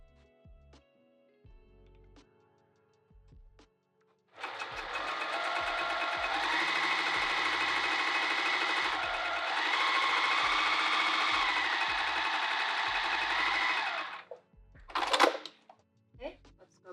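A sewing machine sews down a handbag zipper in one long, steady whirring run of about ten seconds, close and clear, framed by quiet handling clicks before and a brief rustle after.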